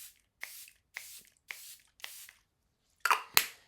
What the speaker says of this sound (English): I'll go in with my Charlotte Tilbury setting spray.